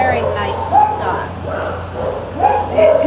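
An older, friendly dog yips and gives a couple of short whimpering barks nearby, over steady background hum and some speech.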